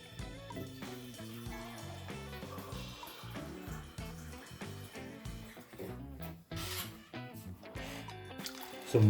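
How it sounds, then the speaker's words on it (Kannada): Water being poured into a pot holding a mix of rice and basmati rice for green chicken pulao, a steady splashing stream running throughout under a busy, cluttered background. "ಸೊ ಇದಕ್ಕೆ ನಾನು ಇವಾಗ 3 ಕಪ್ ನೀರನ್ನ ಹಾಕ್ತಾಯಿದ್ದೀನಿ."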